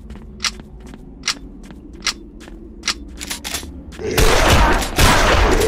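Gunfire in the zombie shooter game Zompiercer: a string of sharp, separate single shots at a steady pace, then a dense, loud burst of continuous fire and noise at the end.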